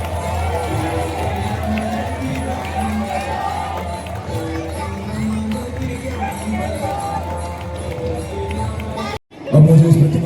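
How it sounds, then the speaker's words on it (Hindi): An audience at an army public school Dussehra celebration applauds a performance, a steady wash of clapping and crowd noise that runs for several seconds and then stops abruptly. "जोरदार तालियां बजाइए सुंदर प्रस्तुति के लिए।"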